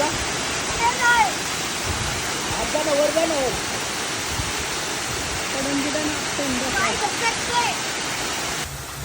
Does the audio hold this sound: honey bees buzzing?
no